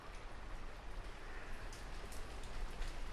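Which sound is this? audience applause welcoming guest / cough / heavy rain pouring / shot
heavy rain pouring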